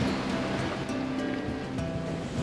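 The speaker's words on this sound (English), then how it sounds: "Big seas and no wind." Big seas wash and surge around a motoring sailboat in calm air, a dense continuous roar of waves with a low engine hum beneath, steady and close.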